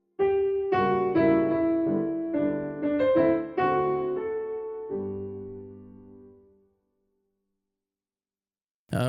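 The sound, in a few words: piano playing Chopin's The Maiden's Wish as transcribed by Liszt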